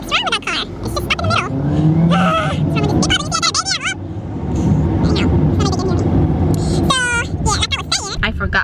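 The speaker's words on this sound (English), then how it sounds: "What the heck's wrong with that car?" A car on the road revs and accelerates loudly nearby, its engine note rising and falling under excited talking from a person inside another vehicle.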